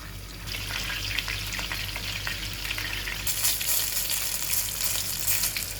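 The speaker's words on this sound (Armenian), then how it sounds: "Քանի դեռ բիբարները տապակվում են" Peppers fry in a pan with a constant crackling sizzle that grows hissier partway through, with no voices.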